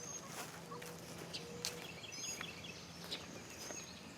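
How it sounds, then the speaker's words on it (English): Faint clucking of chickens outdoors, soft scattered calls over a low ambient background. "Chickens are out here now."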